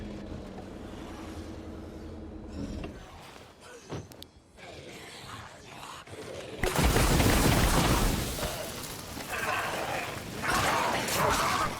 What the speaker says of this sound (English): the reason why this weapon makes so much noise is because it's actually firing the fireworks at people